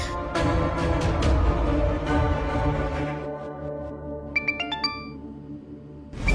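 Phone ringing with an incoming call, a melodic ringtone chiming in a short repeated pattern over background music, fairly clear and close.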